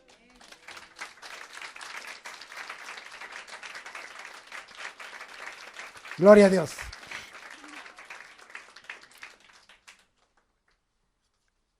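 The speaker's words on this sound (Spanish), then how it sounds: "¿Le da un aplauso al Señor?" Congregation in a church applauding steadily for about ten seconds, with a loud voice calling out over the clapping partway through before it fades.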